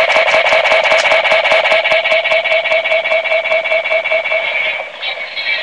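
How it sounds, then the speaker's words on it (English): The trigger button on a Kamen Rider Kiva DX Ixa Belt toy fires a loud, electronic, ringing effect with rapid repeated pulses that fade slightly toward the end, and no talking. "Pushing it will make this sound effect. Push it a few times in succession will do"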